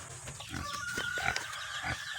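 Pigs grunting and oinking in a pen at feeding time, several short snorts overlapping amid ambient farm noise, with a faint high whine running through.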